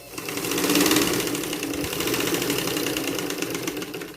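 A sewing machine stitches folded fabric strips together for a tea towel with a mitred double border, a steady rapid mechanical whir with a rhythmic needle clatter running throughout, close and fairly loud, with no talking.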